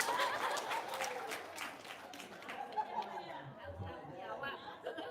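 A crowd at an Indonesian religious talk claps briefly, then the applause thins into chatter and scattered chuckles, heard fairly faint and a little distant.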